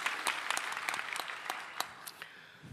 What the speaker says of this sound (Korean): 선제박수로 하나님께 영광을 올려드리겠습니다